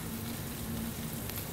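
Bacon-wrapped cube steaks sizzling on the hot side of a grill, a soft, steady crackling hiss heard close but quiet, with a faint low hum underneath.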